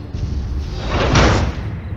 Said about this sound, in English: Total lockdown engaged. Sealing all exterior doors.